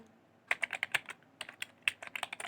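Quick bursts of keystrokes on a computer keyboard as a short reason is typed into an order-processing form, with irregular clusters of clicks close to the mic and no talking.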